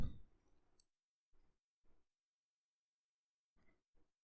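A single sharp, quiet mouse click opens the clip, followed by a few faint, brief ticks spaced across an otherwise near-silent stretch.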